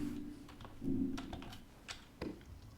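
Quiet clicking of a computer keyboard while playing Dark Souls II, a handful of irregular close key taps and thuds over a low background hum.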